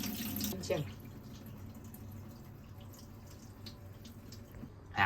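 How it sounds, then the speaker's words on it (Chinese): Running water pours over washed oysters in a strainer after repeated rinsing, a soft steady splashing stream with a louder gush at the start, heard faintly and close. "拿个隔水的，这样开水再冲它们"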